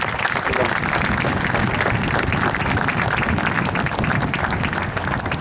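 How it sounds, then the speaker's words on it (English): Football players at a Celtic FC defending training session get a round of applause, a steady wash of clapping that holds loud and even throughout, with a voice faintly underneath. "Both of you just have a round of applause for the guys."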